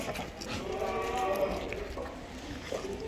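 Goats bleat at a goat farm in Bhiwandi, wavering calls rising through the middle of the clip over a noisy outdoor background of people and animal movement.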